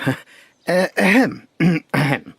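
A person close by produces a series of short, harsh, voiced coughs and throat-clearing bursts, about five in quick succession.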